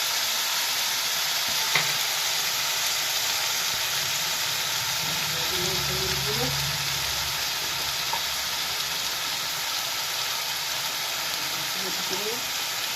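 Chopped green chilies frying in a pan with tomato paste, a dense, even hiss of hot oil close by with a few faint stirring taps, steady and continuous without any talk.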